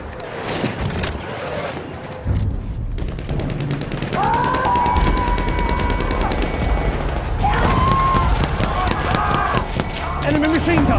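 Machine gun fire and scattered rifle shots in a Battle of the Somme video game, rattling bursts among battle noise and tonal effects, with voices calling out over the shooting.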